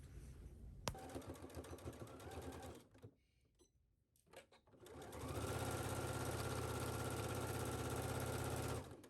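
A home sewing machine stitches a garment seam at a 5/8 seam allowance, running in two steady bursts with a short pause between, the second longer and louder, close by with no talk.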